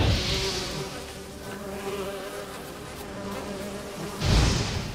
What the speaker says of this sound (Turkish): Arı da var ayrıca.